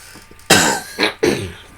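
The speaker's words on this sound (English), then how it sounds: "I've got a nasty cough left over from that cold" Three harsh, loud coughs from a lingering cold in quick succession, close up, with brief pauses between them.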